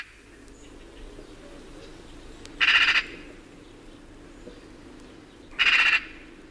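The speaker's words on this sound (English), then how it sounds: "Chatter of the magpie." A magpie gives two short, harsh chattering bursts about three seconds apart over a steady outdoor background hiss, with no talking.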